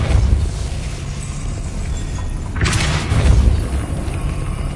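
The Depulso spell is cast in the video game Hogwarts Legacy, giving a sudden whooshing burst that swells out of a rumbling background partway through, followed by a deep boom.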